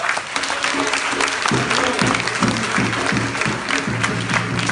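A church congregation applauds and cheers in praise of the Lord, a dense, steady wash of clapping from many hands with rhythmic unison clapping emerging partway through, loud and close.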